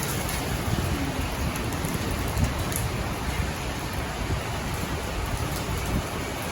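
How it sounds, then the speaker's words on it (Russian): Heavy downpour during a violent spring thunderstorm in Rostov-on-Don, a dense, steady roar of rain hammering surfaces with wind, continuous and loud throughout with no voices. "Такой ливень, это ужас."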